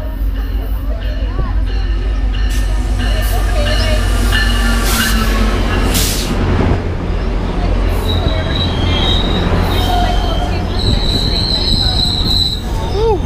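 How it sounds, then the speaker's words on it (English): A GO commuter train in Toronto rolls in loudly, its wheels squealing in high, wavering tones over a steady rumble, with voices faintly audible beneath. "that's a GO train coming that way, too"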